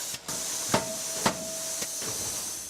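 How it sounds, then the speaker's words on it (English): Hammer press forging a mild carbon steel golf club head: three or four sharp, evenly spaced metallic blows ring out over a continuous hiss of steam and machinery, with no speech. "it's a hammer press. So that's a hammer that actually comes down like a hammer and actually pounds it 3 times"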